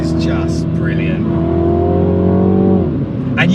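A 2021 MINI John Cooper Works engine pulls hard on a French mountain pass. The loud, steady engine note rises in pitch and then drops sharply near the end as if shifting gear, with a voice talking over it.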